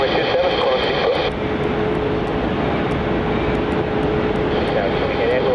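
A passenger airliner taking off at Melbourne Airport on runway 27 makes a continuous broad engine roar, steady and fairly loud throughout, with a faint tone and radio-like crackle over it.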